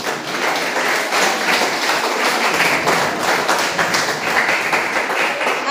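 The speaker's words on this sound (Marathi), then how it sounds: "तुमच्यासाठी भरभरून टाळ्या झाल्या पाहिजे" Audience at a university lecture session applauds warmly, a sustained close round of clapping with some uneven taps, lasting several seconds.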